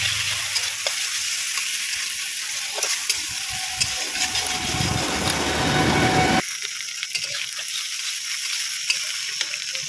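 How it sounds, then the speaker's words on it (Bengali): Fish fries in a pan with a steady close sizzle and crackle, then the sound abruptly drops to a quieter, thinner frying hiss partway through. "আমি এদিকে মাছ ভাজছি তার জন্য"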